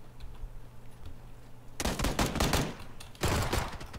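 Video game gunfire erupts after a quiet lead-in: two dense, loud bursts of rapid shots, the second following a brief pause.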